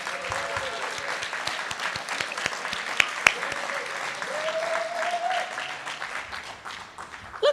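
An audience at an alumni achievement award ceremony applauds and cheers steadily as a guest walks on stage, with dense clapping throughout, a few sharp whoops and claps standing out near the middle.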